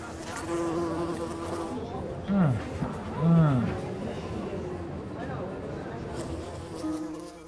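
Wasps buzzing in close, steady drones with a few louder swooping passes, under a continuous background of speech.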